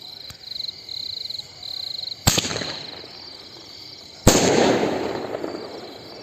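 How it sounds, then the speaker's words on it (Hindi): A Cock brand Penta Sky Shot Diwali firework is lit with a brief hiss and a ticking whistle, then two loud, sharp bursts ring out a couple of seconds apart, each trailing into a crackling, fading rumble. "अब है कॉक ब्रांड का पेंटा स्काई शॉट, इसे जला दे भैया।"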